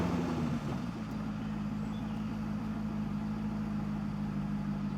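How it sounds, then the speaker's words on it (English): A Chevrolet Corvette engine with a cylinder misfire problem idles steadily, a low, even mechanical hum that stays constant and fairly quiet throughout. "Okay, so the engine is running."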